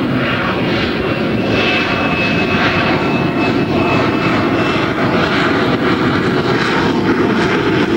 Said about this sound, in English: Once underway, the Harrier is as quick as any other attack plane.